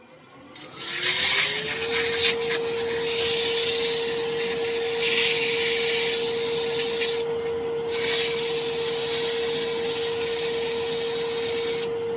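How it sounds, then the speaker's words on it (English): A homemade woodturning parting tool part is sanded on a spinning lathe, a steady rasping whir with a constant motor tone that starts after a second and runs loud and close throughout, no talk. "I'm gonna sand that down just a wee bit"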